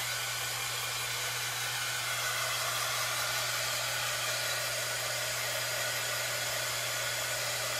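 A hair dryer blows on a freshly painted DIY wooden sign, giving a constant, close, even whoosh with a steady low hum and no change over several seconds.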